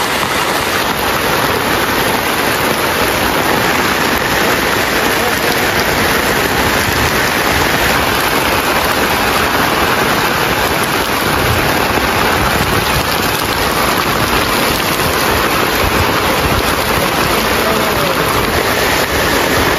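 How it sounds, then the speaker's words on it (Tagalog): Heavy typhoon rain pours down in a constant, dense, loud roar of water on surfaces that never lets up, with no voices. "Grabe ang lakas ng ulan ngayon."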